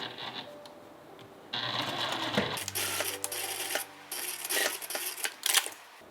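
A sewing machine runs bartack stitches across the top and bottom ends of a seam pocket, a near, whirring mechanical hum in two short bursts after some quieter handling noise.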